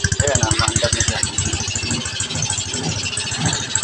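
A Yamaha Crypton Z motorcycle engine, just rebuilt back to stock, starts and runs, with a loud, rapid rhythmic putter and mechanical rattle close by, steady throughout.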